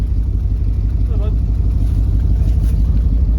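Ford GT muscle car engine running after being started with brake cleaner, a steady low rhythmic idle rumble close by, with a brief voice in the middle.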